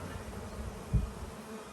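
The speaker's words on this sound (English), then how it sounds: "Hear it thump really loudly into the veil." A single dull thump lands near the mic as a bee strikes a beekeeper's veil, against a steady buzzing of bees close by.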